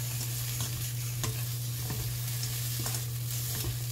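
Steady sizzling in a hot pan with intermittent scraping clicks as chili peppers and anchovies are stir-fried and tossed, close by and without speech.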